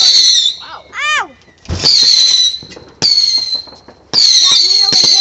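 Fireworks going off nearby, with whistling rising shrieks and several loud crackling bursts in quick succession, mixed with a voice calling out between the blasts.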